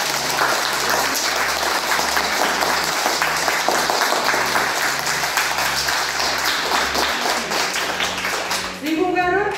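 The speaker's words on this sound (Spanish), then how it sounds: "Entonces démonos un fuerte aplauso." Applause from a group of children at a shared birthday celebration with a small cake, steady and loud clapping throughout, mixed with cheering and children's voices, tapering near the end as a voice comes in.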